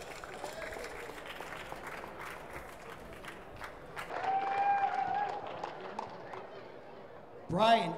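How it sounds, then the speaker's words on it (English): After an amateur fight in Toronto, a crowd applauds fighter Aaron Swenson with a patter of clapping, while voices talk over it and a sharp, loud burst rises near the end. "let's give Aaron Swenson a great round of applause for coming out"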